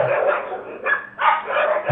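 Stray dogs in a village street bark loudly and close, in two or three harsh overlapping bursts with brief gaps between them.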